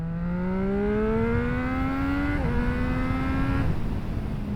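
A Triumph Street Triple motorcycle accelerates in second gear, its engine note climbing steadily and loud up close, briefly dipping before rising again and then easing off, with constant wind rush throughout.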